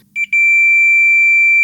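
A circuit tester checking a Saunier Duval boiler board gives a loud, close, continuous high electronic beep after a few short stuttering pips at the start, sustained to the end over a faint low hum.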